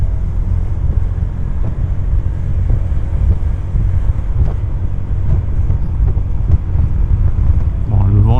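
Heavy wind roars steadily against a rider on a 2025 Forza 125 scooter, a constant low rumbling buffet with faint engine hum underneath and no letup.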